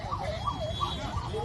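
A nearby ambulance siren wails in a steady rising and falling cycle amid road traffic that police are directing aside.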